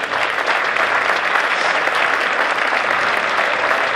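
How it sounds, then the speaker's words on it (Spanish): Circus audience applauding after a show, a loud, continuous roar of clapping from a large crowd that stays at full strength throughout. "a quien pueden aplaudir muy fuertemente también"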